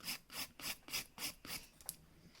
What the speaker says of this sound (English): use your 100 file if you've got a lot of debulking to do